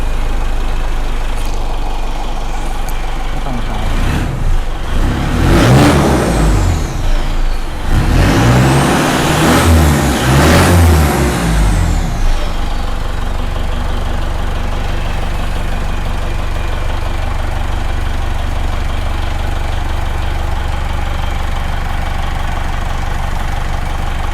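A modified-exhaust Mitsubishi Triton pickup idles loudly and steadily, then its engine revs up and falls back in two swelling surges before settling into a long, rumbling idle again.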